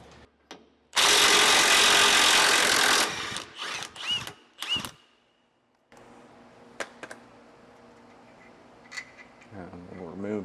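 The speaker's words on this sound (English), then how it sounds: "use a breaker bar initially just to get those loose before throwing the impact on there" Rusted U-bolt nuts on a front anti-sway bar are worked loose: a loud two-second impact wrench burst, then a breaker bar and tools give clanks, ratcheting clicks and metallic knocks, with faint voices and shop noise underneath.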